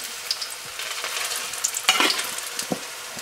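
Green bananas crackle and spit in hot olive oil, a bright steady sizzle that swells as more pieces drop in, with a few sharp pops and scrapes near the end.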